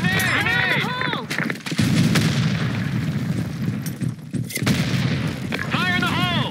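A grenade blast and gunfire ring out in a video game: heavy booming shots and bursts fill the middle, while shouted voices come at the start and end.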